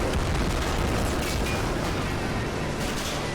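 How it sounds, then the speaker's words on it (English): Heavy tank explosions and artillery blasts from the Army Men of War strategy game, a dense, continuous roar of booms and bursts with no pauses, loud throughout. "Huge explosions just flattened another tank."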